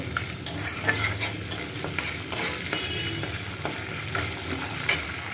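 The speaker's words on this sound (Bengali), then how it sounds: "এটা তেলে ফোড়ন দিলাম তেলে নাড়াচাড়া করে" Dried red chillies, cumin and garam masala tempering in hot oil while a utensil stirs them, a steady close sizzle with repeated scraping knocks against the pan throughout.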